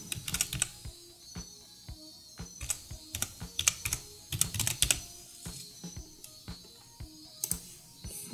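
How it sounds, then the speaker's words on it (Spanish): Steady typing on a computer keyboard with occasional Enter key presses, sharp close clicks in quick irregular bursts and short pauses, no voices. "solo he ido dando enter para separar una línea de otra"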